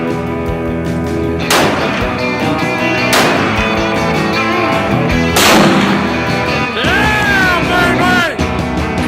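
Loud rifle shots with heavy recoil boom out at intervals over a dense musical bed, three sharp blasts roughly two seconds apart followed by a ringing, swooping effect.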